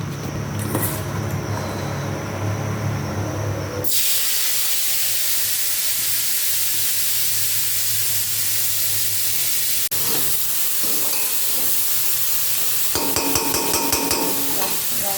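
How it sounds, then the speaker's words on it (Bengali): Steady sizzling of food frying in hot oil fills the whole stretch, broad and hissy, with occasional stirring clatter and scraping near the end. "মাখিয়ে রেখেছি আর তেলে দিয়ে ভাজলে হবে"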